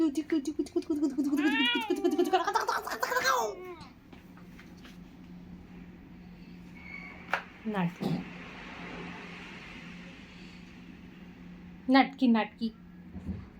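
A cat meows several times, drawn-out and wavering, close by, with a few shorter meows later amid a steady background hum and indistinct voices.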